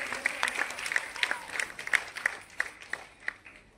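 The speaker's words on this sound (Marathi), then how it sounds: "जोरदार टाळ्या होते त्यांच्यासाठी" Audience applause at a home-minister stage competition in Chiplun, a brisk scattered round of clapping from a modest crowd heard at moderate distance.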